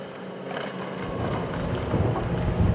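A Zar Formenti 57 Welldeck motorboat runs at over 30 knots with a loud, rushing roar of wind and water over a low engine drone. The sound grows slightly heavier toward the end.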